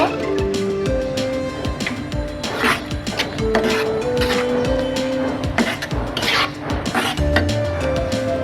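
Spoon stirring pink sauce pasta with chili flakes and spices in a pan, with continuous scraping and clinking of metal against the pan under steady talking.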